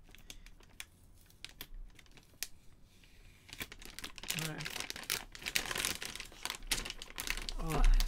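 Protective film being peeled off a Gigabyte GTX 1080 graphics card box: crackling, crinkly plastic tearing sounds that grow louder and denser toward the end, with scattered clicks and someone speaking intermittently.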